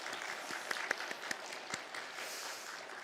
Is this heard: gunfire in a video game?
no